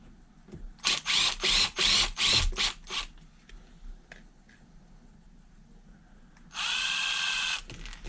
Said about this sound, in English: We going power tools. Power tools, guys.